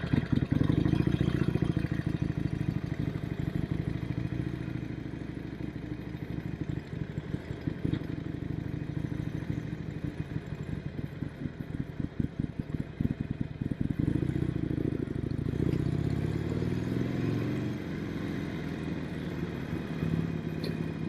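A motorcycle is ridden on a hot day, its engine droning steadily and close with a rumbling low tone, rising and easing as the rider cruises, accompanied by wind buffeting and clatter.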